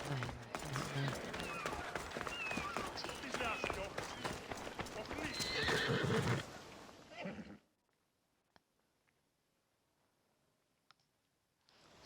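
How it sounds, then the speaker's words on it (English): A horse gallops in Assassin's Creed Odyssey, with rapid hoofbeats and a whinny over busy game sounds and voices for about seven seconds before it cuts to near silence with a couple of faint clicks. "That's a nice horse"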